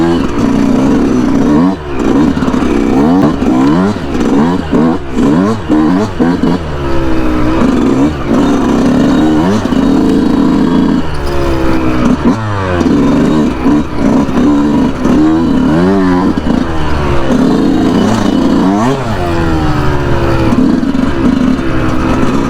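A Yamaha YZ125 two-stroke dirt bike engine, loud and close, revving up and down repeatedly with rising and falling rasping pitch and clattery idle between bursts.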